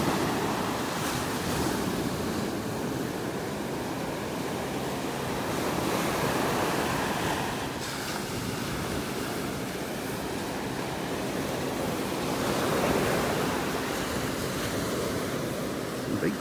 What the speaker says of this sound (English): Listening to the sounds of the waves.